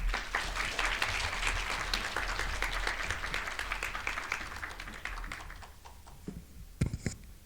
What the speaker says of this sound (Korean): 부학장님께서 단상 위로 올라오실 때 큰 박수 부탁드립니다